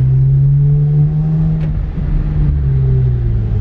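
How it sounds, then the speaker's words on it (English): Loud, steady engine drone of an Infiniti Q60 with a flame tune and new blow-off valves, heard from inside the car as it accelerates, with a brief sharper burst midway. "your car is loud, guys. We in a loud Q60"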